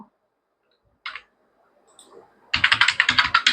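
A computer keyboard is typed on: an isolated click, a few soft taps, then a quick burst of rapid, crisp keystrokes close up.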